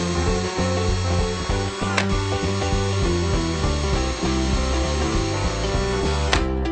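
A power drill whirs steadily, drilling holes in the base of a box, its motor pitch wavering as it bites, with two sharp clicks cutting through the continuous grinding.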